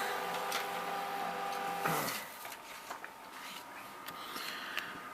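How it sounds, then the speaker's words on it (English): An HP LaserJet 2300n laser printer runs a status page, whirring steadily up close before the motor cuts off abruptly, leaving a few quiet clicks and ticks. "If I hit OK, or the check mark, it'll actually print and tell you a little bit about the printer"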